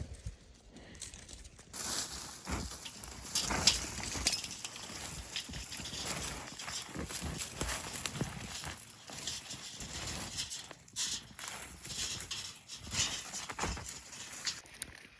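Footsteps trudging through knee-deep snow in the winter bush, a steady run of soft crunching and shuffling steps, close and moderately quiet, with no talking.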